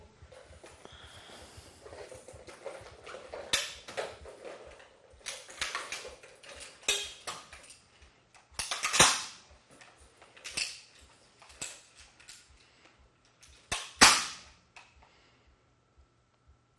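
A 20-round ammunition belt is loaded into a machine gun, with scattered metallic clicks and clacks, two sharp loud snaps standing out among quieter handling noises.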